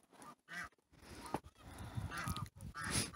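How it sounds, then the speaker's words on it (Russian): Geese honking outdoors in snow where a shaggy grey gander is being chased by the flock, several loud nasal honks in quick irregular bursts, close by with no talk. "Встретились там гуси."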